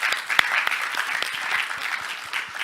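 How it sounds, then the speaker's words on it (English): Audience clapping during a roundtable Q&A at a Flutter developer conference, a steady dense patter of many hands lasting the whole stretch at moderate loudness, with no talk over it. "Everyone, please clap."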